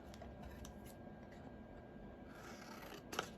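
Scissors snip around a paper template, soft intermittent cuts faint over quiet room tone, with one sharper snip near the end.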